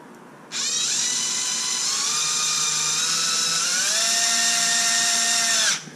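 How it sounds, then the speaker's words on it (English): A small power drill drives bolts into an XMAXX 8s RC car during a rebuild, giving a close, steady high-pitched whine that runs unbroken for several seconds, dips slightly in pitch partway through, then cuts off. "This is where I'm gonna need my little drill, and I'm gonna take these 4 bolts"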